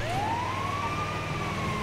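An ambulance siren in the video game GTA 5 wails in a single rising, sustained tone over a low engine rumble, loud and close, with no talking.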